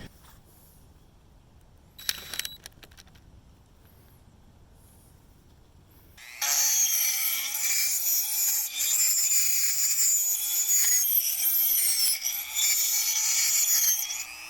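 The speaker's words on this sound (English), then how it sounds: "This is a carbide cutting tip on a rotary cutoff tool, and I can get enough material out of the way." A rotary cutoff tool with a carbide cutting tip grinding to widen a slot in the base of a metal post, a loud, continuous, high-pitched whine that starts abruptly after a quiet stretch with a few brief scrapes, close up.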